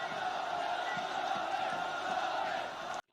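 A large crowd at a political rally where Australian flags are waving, producing a steady roar of massed voices and cheering that stays constant for about three seconds, then cuts off abruptly.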